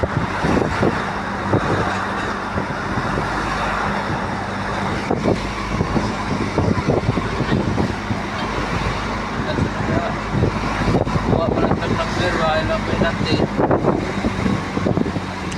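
Road traffic rumbles steadily nearby with passing vehicles, wind buffeting the microphone, and people talking over it.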